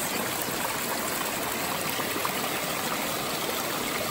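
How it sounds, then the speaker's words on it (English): A small mountain stream on a Continental Divide Trail hike, flowing and trickling in a steady, close, broadband rush that stays even throughout with no voices. "Look at that water source."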